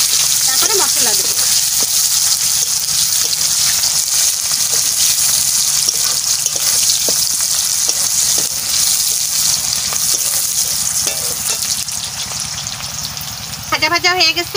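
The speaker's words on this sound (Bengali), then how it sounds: "একটু ভাজা ভাজা হয়ে নুক, তারপরে মশলা দেব।" Pieces of duck sizzle steadily in hot oil in a pan, a dense continuous frying hiss that fills the whole stretch with small crackles, while a person talks faintly now and then over it.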